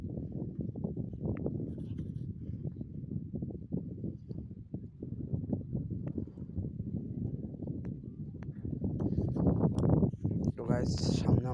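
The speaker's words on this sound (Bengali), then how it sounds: "দেখুন অনেক বাতাস হচ্ছে ঠান্ডার সময়।" Strong cold-season wind sweeping across an open onion field, a continuous low rumbling buffet that swells louder near the end, with a voice faintly present beneath it.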